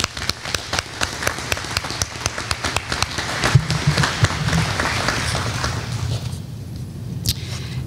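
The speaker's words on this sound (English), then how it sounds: "Now let's show your appreciation by giving everyone a round of applause." Graduates at a high school commencement give a round of applause: scattered, fairly close claps, thinning and fading toward the end, with a low murmur underneath.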